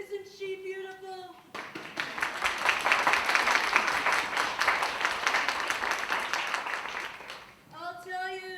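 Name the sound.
audience applause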